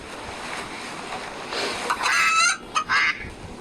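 Honking and quacking calls from ducks and chickens rise over a steady rushing background, several short cries in quick succession nearby.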